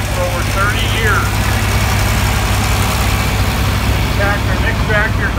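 A homemade farm tractor, driven by the man who built it and used for over 30 years of farming, rumbles steadily along in a parade, its heavy low engine drone continuous under an announcer's voice and scattered crowd noise.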